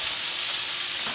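Eggs cooking in a frying pan give off a continuous, even, bright sizzle, close and steady throughout, with no voices.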